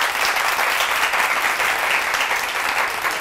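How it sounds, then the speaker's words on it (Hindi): Audience applause, a steady dense clapping from a crowd, loud and sustained without a break. "पिनार नादिया और नादिया की पूरी टीम के लिए तालियां होनी चाहिए भाई"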